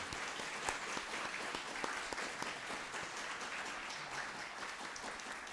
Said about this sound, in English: Please join me in giving a warm round of applause for Professor Kuscha.